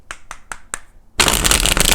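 Tarot cards are shuffled: four quick crisp riffle snaps in even rhythm, then a loud, dense bridging flutter of cards close to the microphone, with no talk.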